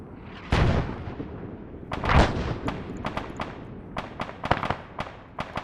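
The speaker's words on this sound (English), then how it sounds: "Now you're hearing more mortars." Mortar rounds go off in a military video game: a heavy blast, then a louder second boom, then a rapid string of sharp cracks and pops, loud and close against a rumbling background.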